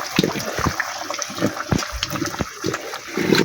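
Washed, cut potatoes tipped into a simmering layer-hen chicken curry in a pot on a clay stove, giving a close run of wet splashes, plops and sizzling bubbles with a steady crackling hiss underneath.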